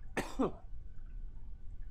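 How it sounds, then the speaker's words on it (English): Two quick coughs close to the microphone, a sharp harsh burst followed by a second shorter one, then near-quiet room tone. "Coughing a lung up while I do it."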